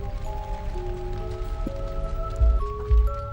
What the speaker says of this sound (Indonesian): tapi sekarang hujan lebat